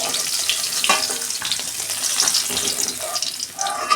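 Katla fish pieces fry in hot oil with a steady hiss and crackle, close and fairly loud, with a few clinks and watery sputters mixed in.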